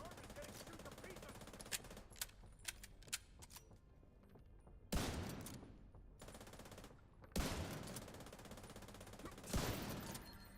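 Gunfire in a sniper and headshot build shooter game, with rapid bursts of shots and heavy impacts battering the player's armor, louder crashing hits standing out over a steady bed of combat noise.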